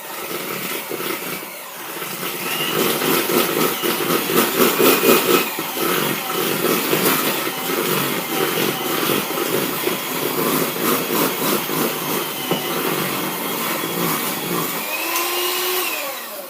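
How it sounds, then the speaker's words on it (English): An electric whisk creams butter and sugar for shortbread in a kitchen, giving a loud, continuous motor whine with a rattling, uneven texture that runs almost the whole time and eases off near the end. "I'm just going to use my electric whisk, and I'm just going to whisk them together so they're nice and creamy"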